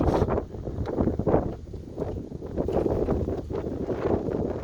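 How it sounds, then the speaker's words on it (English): Gusting wind rumbles across the microphone in uneven surges over a large pasture, steady and moderately loud, with no speech. "Windy today."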